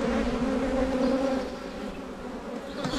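Agitated honeybees on a brood frame give off a dense, close buzzing hum that is loud at first and eases slightly partway through.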